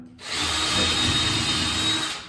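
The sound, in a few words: power drill drilling a hole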